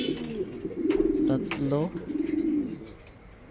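Pigeons coo near a breeder's loft with low, throaty rolling calls that repeat through the scene while someone talks over them.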